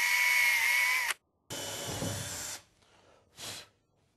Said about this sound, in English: Having drilled the holes